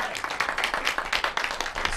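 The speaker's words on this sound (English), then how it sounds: "Big round of applause." Audience at an annual meeting of a local access television station clapping in a steady, dense round of applause, many hands at once, fairly close and with no talk over it.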